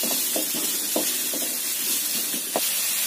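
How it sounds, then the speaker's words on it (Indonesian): Carrots are stir-fried in a pan over medium-low heat, a constant sizzling hiss overlaid with repeated scraping and tapping strokes of a spatula. "Kita tumis sampai wortelnya matang."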